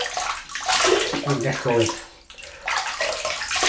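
Tap water runs and splashes steadily as someone rinses his face mid-shave, with a short gurgling pause, and someone speaks briefly over the running water.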